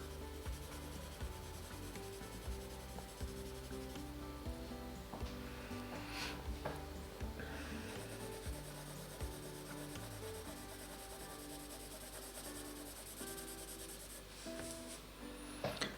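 A colored pencil moves over paper in a self-portrait background, giving a continuous close scratchy rubbing with steady back-and-forth strokes under a faint tonal background hum.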